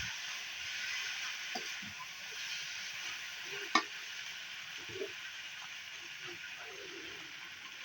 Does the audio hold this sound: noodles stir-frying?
yes